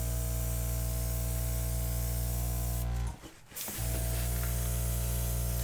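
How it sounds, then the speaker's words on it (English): An airbrush hisses steadily and loudly over a wet acrylic paint pour, the constant spray of air cutting out once for a brief gap before carrying on. "Let me do it with the airbrush so I don't disturb the whole thing. Let me blow these little edges out."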